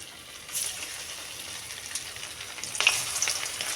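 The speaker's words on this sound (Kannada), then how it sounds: "ಈಗ ನಾನು ಒಂದೊಂದಾಗಿ ಕಬಾಬ್ ಹಾಕ್ಕೊತೀನಿ ರೀ" Kebab pieces deep-frying in hot oil give a steady close sizzle that swells louder near the end as more pieces go in, with no talking.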